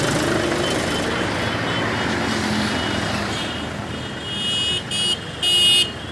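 A loud Mahindra 265 tractor engine rumbles steadily with low droning throb, joined near the end by short bursts of a horn or beeping tone.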